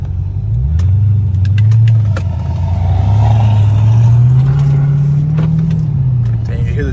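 Tuned 670 hp Mercedes C63s with a twin-turbo V8 accelerating hard on a highway, heard from inside as a loud, continuous engine drone rising and falling in pitch through the gears, with brief voices over it.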